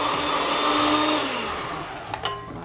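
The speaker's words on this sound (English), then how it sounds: "I'm going to mix the 4 tablespoons of butter with the sugar" An electric mixer creams softened butter with sugar, a loud steady whirring drone that slowly winds down, followed by a couple of light clanks of metal against the bowl.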